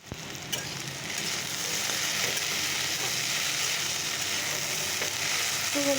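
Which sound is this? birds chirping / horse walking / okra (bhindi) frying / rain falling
okra (bhindi) frying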